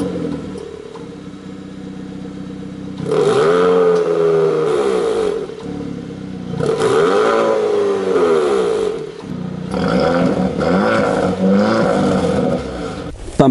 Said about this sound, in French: la double sortie d'échappement qui intègre des valves, ce qui permet de modifier le son